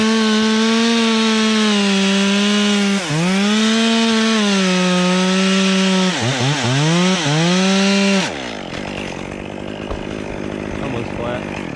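A chainsaw cutting through a tree trunk during a solo tree removal, loud and close, its engine holding a steady high whine that sags under load several times, then breaking into a rougher, bogged-down rasp near the end.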